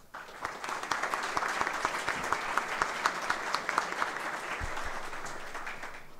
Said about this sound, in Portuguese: peço que nós o recebamos com uma salva de palmas nesse começo